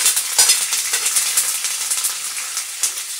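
Green chillies and curry leaves fry in hot oil for lemon rice, a bright, steady crackling sizzle with scattered sharp pops, close up and without voices.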